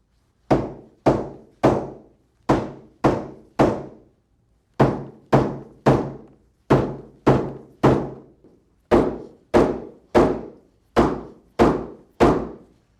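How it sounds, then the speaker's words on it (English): A hammer peening the excess bolts of a Flexco conveyor belt rip repair lace, giving sharp, close metallic strikes in quick groups of two or three with short pauses between them, about twenty blows in all and no talking. "The final step is to peen the excess bolts to prevent the nuts from backing off."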